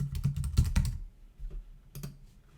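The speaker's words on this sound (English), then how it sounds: "So I'll hit change, and I'll just type in here impulsivity." Close clicks of a computer keyboard come in a quick flurry of keystrokes, pause, then resume with a few more taps, all fairly quiet with no talking.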